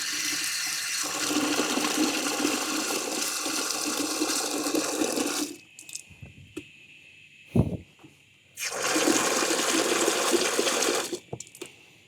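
Water from a tap pouring into a plastic garden pump sprayer tank while a herbicide mix is topped up: a steady rushing stream, a pause with small clunks and a knock, then a second pour.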